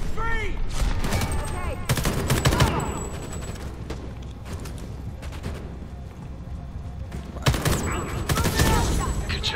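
Automatic gunfire in the video game Homefront The Revolution, loud rapid bursts of shots with short pauses between volleys and a heavier burst near the end, sounding close and dominant throughout.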